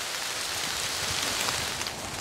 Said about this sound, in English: this rain is picking up